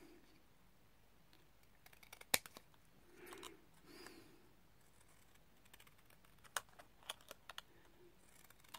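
Scissors cut out a stamped paper card butterfly for a tent card with a few quiet, sparse snips and light clicks in a near-silent room.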